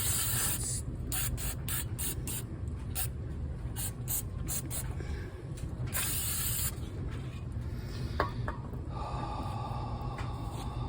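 Cleaner is sprayed onto the rear Brembo brake parts of a 2016 Dodge Charger Scat Pack in a run of short, sharp hissing bursts, followed by one longer spray, close up with no talking.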